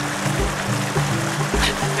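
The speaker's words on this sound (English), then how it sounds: "Now this is the actual creek." Water flowing steadily in a natural creek, a continuous close rushing wash with soft gurgles and no talking.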